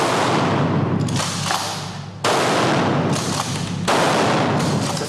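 Pump-action shotgun fired at a shooting range, three loud, sharp blasts spaced about a second and a half apart, each with a long, noisy decay that fills the space until the next shot; no talking.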